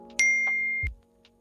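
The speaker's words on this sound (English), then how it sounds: "don't forget to hit that notification bell so you can stay updated with me" A single bright notification bell rings once, holding a clear tone for under a second before a soft thud ends it, with silence around it.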